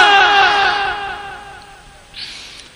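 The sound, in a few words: crowd chanting loudly in response to preacher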